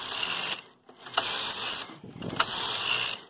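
A Brother KH892 knitting machine carriage slides back and forth across the needle bed, giving a steady mechanical whirring and clicking in several passes separated by brief pauses, fairly quiet and with no voices.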